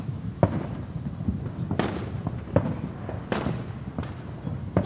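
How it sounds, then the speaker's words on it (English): Fireworks go off on a city street, a series of sharp cracks and thumps spaced irregularly a second or so apart, moderately distant, over a low background rumble. "So there are a lot of fireworks right now"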